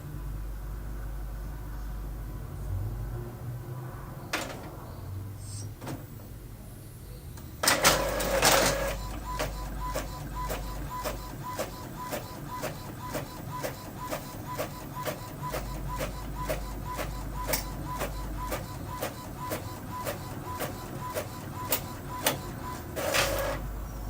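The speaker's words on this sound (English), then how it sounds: "And it should print pretty fast." A home inkjet-style printer runs a sheet of sticker images for a Cricut project, starting with a short mechanical whir and paper feed, then a steady, rhythmic chatter of the print head sweeping back and forth, close and clear with no talk.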